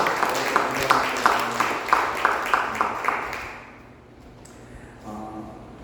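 A church congregation at a Sunday service claps for a member's birthday, with a steady, evenly paced run of claps for about three seconds that then stops, leaving a quiet room and a faint sound near the end.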